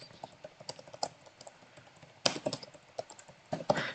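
Quick, uneven keystrokes on a computer keyboard tap out text in short bursts, close and crisp, with a brief pause around the middle before the typing resumes.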